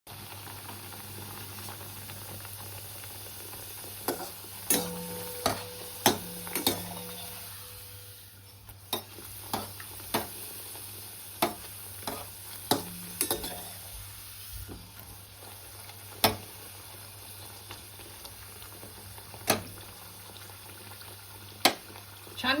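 Kachori frying in hot oil gives a steady low hiss broken by scattered sharp crackles and pops throughout, fairly quiet and close.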